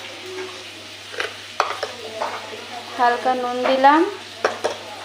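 Soybean pieces fried and stirred in a pan with chilli, salt and turmeric, a soft sizzle with scraping stir strokes, while someone speaks throughout.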